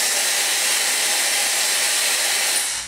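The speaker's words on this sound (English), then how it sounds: "then use a blow dryer on cool" A blow dryer runs on its cool setting during a makeup test for drying mascara, giving a loud, steady airy roar that holds for about three seconds before cutting off.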